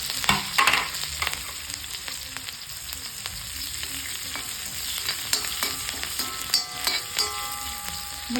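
Chopped onions and green chillies sizzle in hot oil after mustard seeds have popped, for a Kerala green gram curry, with a steady close frying hiss and occasional scrapes of stirring.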